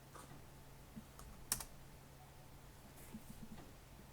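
A handful of faint, sparse keystrokes as a password is typed on a computer keyboard in a quiet room, with a single sharper click standing out.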